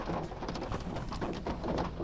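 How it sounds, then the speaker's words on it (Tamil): Steady rain falls heavily near the Kodaikanal waterfalls, a dense continuous hiss and patter with no voices. "மழை பெய்யுறது."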